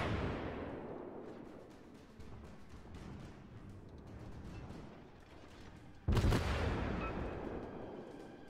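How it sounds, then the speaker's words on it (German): Naval guns fire in World of Warships against the ship Miyugi. Heavy booms roll out and decay over a low rumbling background. A sharper, louder salvo cracks in near the end, followed by continued rumble and scattered impacts. "da schieße ich jetzt natürlich auch wieder drauf"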